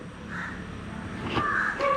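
A crow caws a few times, harsh and fairly close, over a steady background hum.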